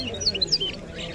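Several quick, high bird chirps sound against a murmur of background noise at a market in Tangier, brief and moderately faint.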